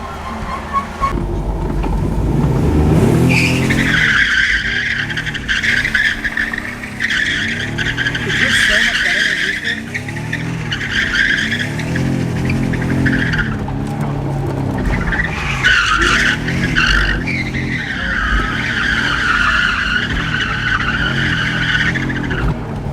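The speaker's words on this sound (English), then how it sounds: "we're gonna try to do a couple more skids today and have some fun" A 5-speed swapped BMW E36 drifting on the street, its tires skidding and squealing loudly in long sustained bursts with engine roar underneath, close and dominant throughout.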